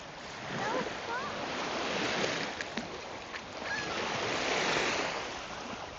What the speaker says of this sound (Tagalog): Ah, malakas dito yung alon ah, Inday.